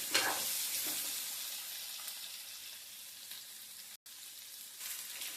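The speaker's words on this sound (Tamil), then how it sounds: "இப்போ இது நல்லா வதங்கட்டும்" Onions sautéing with a little salt in a pan give off a steady, close sizzle and hiss. It runs evenly throughout, drops out for a moment near the end, then resumes, with no talking.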